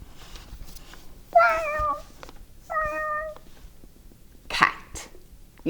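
A cat meows twice in long, tonal, drawn-out calls, near and clear, followed by a short breathy sound like a sneeze or cough, over a quiet background.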